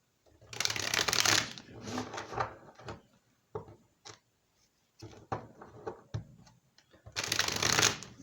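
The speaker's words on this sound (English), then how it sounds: "Let's do 3 more shuffles here." Tarot cards shuffled by hand in a series of riffling bursts: loud at first, then shorter bursts and separate taps, then another loud riffle at the end, all close and with no talk.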